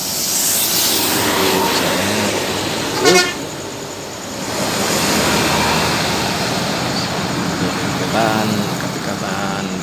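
Tour buses from Medan, among them coaches from the Rapi and Eldivo companies, roll past on a road. Engine and traffic rumble run throughout, with one short, loud horn toot midway and fainter honks later, under talking.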